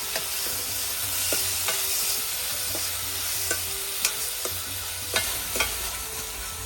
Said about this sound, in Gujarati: ધન જીરું આદુ લસણની લાલ મરચાંવાળી ચટણી નાખી દેવી બરાબર મિક્સ કરી દેવું